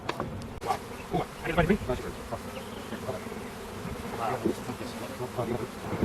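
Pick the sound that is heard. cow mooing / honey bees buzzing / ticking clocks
honey bees buzzing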